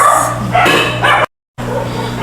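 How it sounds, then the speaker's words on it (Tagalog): Loud barking from many dogs outdoors in repeated bursts, with a brief silent gap partway through, sounding close and continuous. "maingay yung mga aso. Ang daming aso sa labas."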